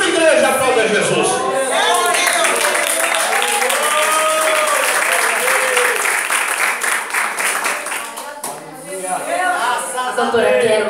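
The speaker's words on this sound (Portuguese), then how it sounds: "aplauda Jesus." Sustained applause from a church congregation fills the room, steady and loud with voices mixed in, dipping briefly near the end before resuming.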